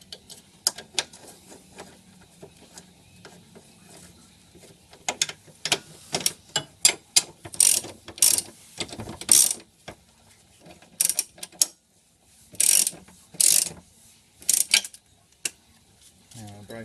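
A ratchet clicks in short rapid bursts, with pauses between strokes and a few metallic clinks, tightening the front control arm bolts on a Subaru.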